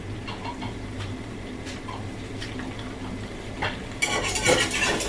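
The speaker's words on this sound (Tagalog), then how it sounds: "At gagamit po ako ng wire whisk na manual." A manual wire whisk stirs all-purpose flour in a pot for lasagna, giving soft repeated scraping and light clinks, growing busier and louder near the end, with no talk.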